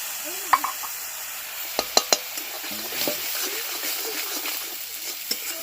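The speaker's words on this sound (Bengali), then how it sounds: "আর এটা কষানোর সময় না সামান্য একটু জল দিতে হবে একটু দিয়ে এবার কষাবো ভালো করে" Spice paste with cumin powder and a splash of water being sautéed for an egg dish, with a spoon clicking and scraping against the pan over a soft, low sizzle, a few sharper knocks standing out.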